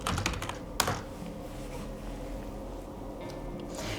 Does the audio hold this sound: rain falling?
no